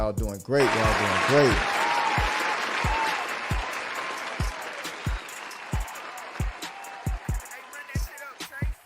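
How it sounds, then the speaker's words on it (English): A burst of applause and cheering rises at once and fades after a few seconds, followed by scattered sharp claps and thumps in an irregular rhythm, with a voice speaking at the start. "Let me give y'all a round of applause for man"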